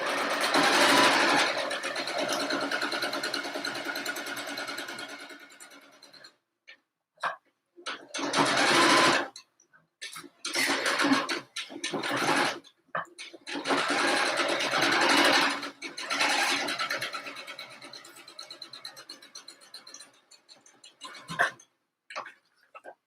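Home sewing machine stitching across the top of a simple fabric mask, a steady loud whirring run that breaks into short stop-start bursts of stitching, with brief pauses between.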